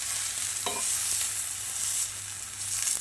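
Tomatoes and garlic roasting in a pan are stirred, giving a steady close sizzle with soft scraping. The sound holds at an even level, and no one speaks.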